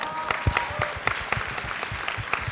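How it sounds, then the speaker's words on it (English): Audience clapping for three panelists at a panel session, a dense, even patter of many hands close by with no voices over it. "Give them a big clap"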